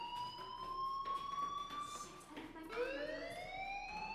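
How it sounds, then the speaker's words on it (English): Fire alarm ringing inside the battle royale video game PlayerUnknown's Battlegrounds, a steady electronic tone that breaks off briefly and then resumes at a slightly lower pitch, fairly loud and clear with no talk over it. "Hey, do you hear that fire alarm?"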